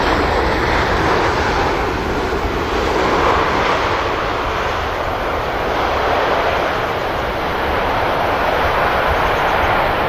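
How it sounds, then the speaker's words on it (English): A heavy Boeing 787 Dreamliner jet lands and rolls out along the runway at Manchester Airport, a steady broad roar of engine and rushing air holding at a constant loud level throughout. "Using quite a bit of runway as well, the Dreamliner there."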